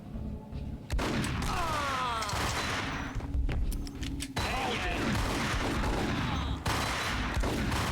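Rapid bursts of gunfire fill a shootout in the video game Max Payne, dense and loud with short gaps, close and sustained over game noise.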